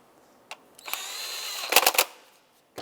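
A power tool spins briefly to snug an ignition coil bolt on a 2007-2010 Chrysler Sebring with the 2.4L engine, giving a short close burst of whirring, then a few rapid pulses before it stops.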